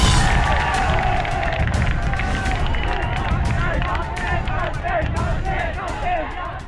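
A dense crowd fills a street in Ujjain's Geeta Colony during a Muharram tazia procession, voices merging into a loud, continuous roar with scattered shouts and cheering throughout.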